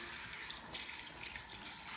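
Lukewarm water rinsing a man's hair during a perm, a steady soft splashing wash from close by that runs without a break and without talk.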